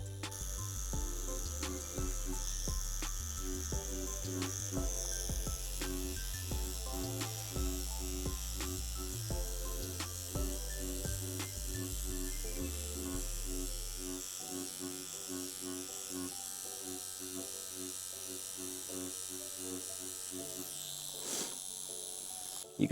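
Tattoo machine whip shading with a magnum needle: a faint, continuous mechanical buzz runs steadily throughout, set under background music with a regular beat.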